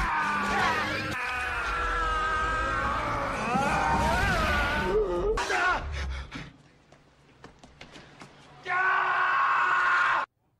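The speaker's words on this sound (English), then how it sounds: "I'm giving it the Arnold scream." A montage of Arnold Schwarzenegger screams plays as loud, strained, drawn-out yelling that wavers in pitch. After a brief quieter gap, a final burst of screaming follows.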